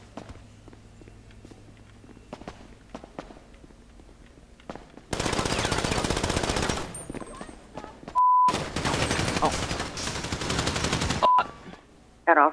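GTA V gunfire on a FiveM roleplay server opens after quiet footsteps and faint voices, then erupts as loud, sustained automatic bursts with a brief gap between volleys.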